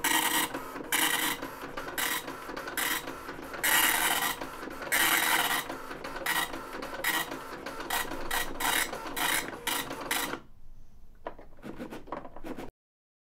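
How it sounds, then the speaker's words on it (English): Printer attached to a ZX Spectrum printing a program listing: loud rasping, scratchy printing passes in quick bursts for about ten seconds, then a few faint mechanical clicks. "Now we can print out listings using the llist command,"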